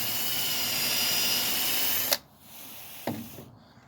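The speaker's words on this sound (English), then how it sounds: "Drill a hole." A power drill bores a hole for deck lights outdoors on a cold day, whirring steadily for about two seconds before stopping abruptly, followed by a quiet pause and a single clunk.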